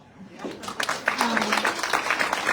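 An audience claps at the PKTories 2025 annual general meeting, a dense patter of hands swelling after a moment and continuing steadily under a voice that keeps talking.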